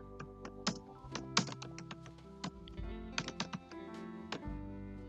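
Keys clack on a computer keyboard while text is entered at an MS-DOS command prompt, in uneven bursts of close, crisp keystrokes over a soft musical background.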